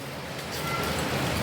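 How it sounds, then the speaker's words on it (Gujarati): Steady rain falling outdoors on a humid, stormy day, a continuous broadband hiss that swells slightly louder partway through, with no voices. "અહીંયા વરસાદ વધારે થોડોક ચાલુ થઈ ગયો"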